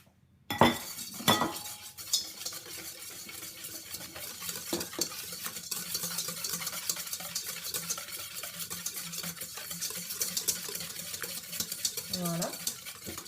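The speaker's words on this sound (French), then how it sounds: "je vais mélanger en fait dans mon saladier l'œuf avec le sucre" Egg and sugar being whisked together in a mixing bowl for cupcake batter, opening with a few loud knocks before a fast, continuous scraping and clicking rhythm of the whisk against the bowl.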